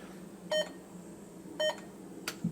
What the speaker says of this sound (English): Beep, I'm going to turn that off so it doesn't bother us.